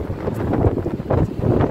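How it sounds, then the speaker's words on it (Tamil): Strong outdoor wind buffeting the microphone during a first walk outside in Canada, a steady low rumbling roar with gusty surges throughout and no talking. "செம்ம காத்து"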